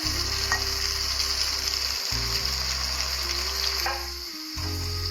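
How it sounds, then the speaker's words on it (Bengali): Carrot pieces fry in oil for a vegetarian biryani, a continuous even sizzle close by, with a steady low hum underneath that briefly drops out twice. "গাজরগুলোকে আমরা একটু লালচে করে ভেজে নেব"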